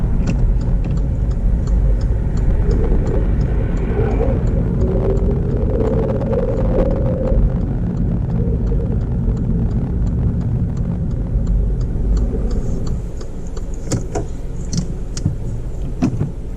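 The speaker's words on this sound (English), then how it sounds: "There's an oncoming vehicle, so Sonny stops in a good position and waits for the vehicle to pass." An oncoming car passes a parked learner car on a road, a steady engine and tyre rumble swelling and fading close by, with faint knocks and no talk.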